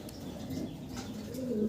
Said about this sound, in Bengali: ড্যানিশ কবুতর দেখাচ্ছি আপনাদেরকে